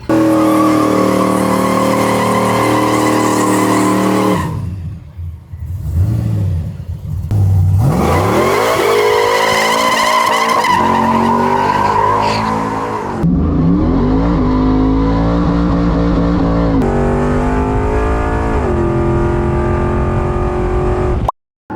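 Truck doing a burnout at a Midwest truck event, a loud sustained engine roar with shifting revs and continuous tire squeal, close and overpowering throughout, with a brief drop midway before it roars again.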